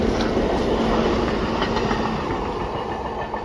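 A train rolls past with flat-spotted wheels, a loud, close rumble carrying a repeating clattering beat that stays steady throughout, with no voices.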